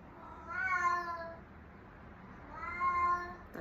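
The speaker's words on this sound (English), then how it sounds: "That's my cat in heat." A domestic cat in heat meowing, two long drawn-out yowling caterwauls separated by a short pause, moderately close in a quiet room.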